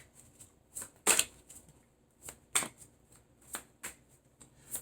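A deck of tarot cards is shuffled in short bursts: two loud riffles stand out among softer, quicker card flicks and taps, close up and without voices.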